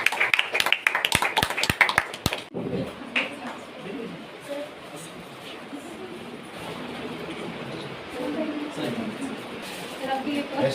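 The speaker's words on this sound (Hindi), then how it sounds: "ताली मारो" A quick burst of about eight sharp hand claps from a small group at a rural handicraft design training session, then a murmur of voices and background noise.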